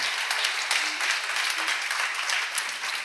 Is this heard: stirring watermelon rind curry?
no